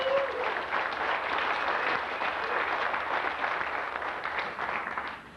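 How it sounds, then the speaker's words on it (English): Crowd at a truck nationals gathering for GMC Syclone and Typhoon owners in Kansas City gives a sustained round of applause, even dense clapping throughout, moderately distant and tapering off at the end. "So give everybody a round of applause on that one."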